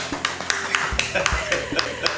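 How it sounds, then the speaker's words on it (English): Clapping breaks out at a school celebration, a scattered run of claps with a few sharper individual hits, along with light chuckling and voices in the room. "a huge round of applause for father"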